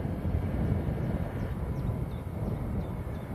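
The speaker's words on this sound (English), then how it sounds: "Embraer Legacy, operated by VistaJet. That's coming from Geneva." An Embraer Legacy business jet operated by VistaJet, arriving from Geneva at Manchester Airport, makes a broad, steady engine roar with rushing wind over it. The sound is loud and constant and no one speaks.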